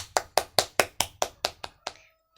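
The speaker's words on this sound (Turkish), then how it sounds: "Alkışlayın." Hand clapping after a Soccer Stars game, nine sharp, evenly spaced claps close to the mic that fade out toward the end.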